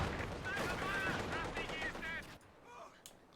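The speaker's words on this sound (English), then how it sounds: "it is indeed the G43 rifles of the Jaegers" G43 rifle fire from Jaeger troops in a battle game: a run of quick, overlapping rifle shots mixed with wavering whine-like tones, dropping off into quieter, sparse noise toward the end.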